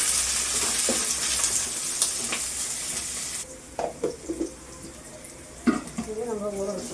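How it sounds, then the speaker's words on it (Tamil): Onion and curry leaves sizzle and get stirred in a pan, a bright steady frying hiss with scraping spoon strokes that softens midway, leaving quieter clinks and stirring while a voice talks intermittently. "வெங்காயத்தை நல்லா இது கொஞ்சம் வதக்கி வச்சுக்கலாம்"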